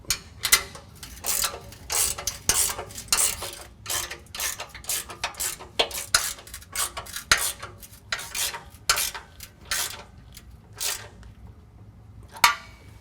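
A ratchet wrench tightening bolts on a Rugged Ridge XOR rear bumper with tire carrier on a Jeep JK, heard as repeated bursts of rapid metallic clicking close by, with short pauses between strokes; no talking.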